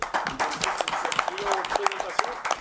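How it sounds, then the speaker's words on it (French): An audience claps for a young talent on a television show, with scattered, uneven hand claps scattered under a talking voice that runs throughout. "certainement que je vais vous demander d'applaudir"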